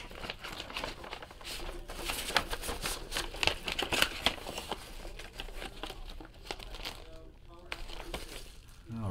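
A trading card slid back into a paper envelope, making close rustling and crinkling of paper and plastic in irregular bursts that grow busier in the middle and thin out toward the end, with a voice talking over it.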